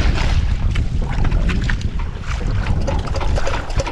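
A small fishing boat's engine runs steadily out on the open sea, a loud continuous rumble mixed with wind buffeting the microphone and water noise, with no talk over it.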